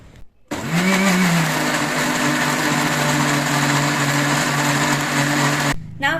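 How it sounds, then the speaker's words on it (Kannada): A kitchen mixer grinder whirs steadily, grinding ginger, jaggery, cumin, salt and asafoetida, its motor spinning up quickly and holding a loud, even drone for about five seconds before cutting off. "ಇವಾಗ ನಾವು ಇದನ್ನೆಲ್ಲ ಮಿಕ್ಸಿಗೆ ಹಾಕಿ ಗ್ರೈಂಡ್ ಮಾಡಿಟ್ಕೊಳ್ಳೋಣ"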